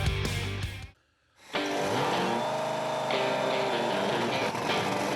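A nitro funny car roars at a drag race at Willowbank Raceway, loud and harsh. The roar breaks off for a brief gap, then returns and fills the rest of the clip.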